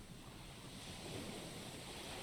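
Ocean waves rising and falling under a salty wind in the Aoi Shiro game, a steady, full wash of surf and wind noise with no voices.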